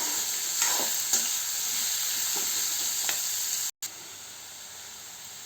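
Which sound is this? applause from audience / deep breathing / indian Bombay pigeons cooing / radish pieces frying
radish pieces frying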